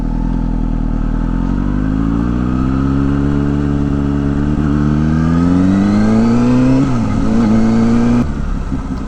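A motorcycle rides along the Pacific Coast Highway on a motocamping trip. The engine is loud and close, its pitch climbing steadily as it accelerates, with a brief dip near the end.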